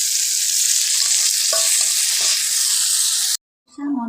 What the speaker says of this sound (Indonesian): kita goreng dulu guys sambil nunggu tempenya